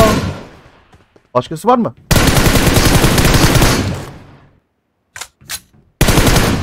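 Gunfire in PUBG Mobile: loud, close bursts of rapid automatic shots in two long stretches, separated by silence and brief shouted speech, with a final burst cut off at the end.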